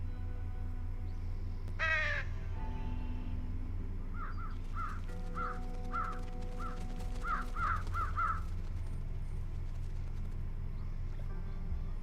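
Crows cawing in the Trüberbrook adventure game: a string of about a dozen clear, moderately loud caws in quick groups over a low steady ambient hum, with an earlier short rising chirp.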